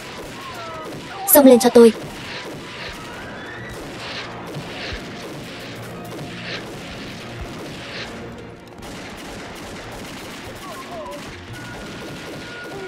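Gunfire erupts in a war film set against Japanese soldiers, a short loud burst of rapid shots near the start followed by scattered distant crackle, with someone shouting orders over the battle noise.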